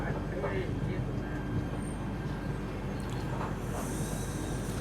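A Chennai Central to Mumbai LTT SF Express, train 12164, pulls into platform 2 at Rajampet station with a low steady rumble and hiss heard from inside, as a voice talks over it.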